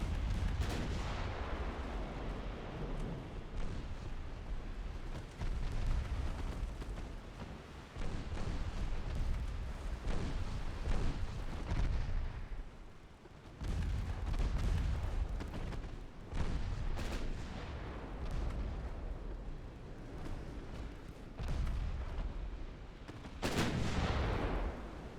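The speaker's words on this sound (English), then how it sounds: "5-inch guns being quite effective with AP." Warship 5-inch guns firing armor-piercing rounds in a naval battle video game, repeated heavy booming salvos in irregular bursts with rumbling decays between them, loud and dense over a low background.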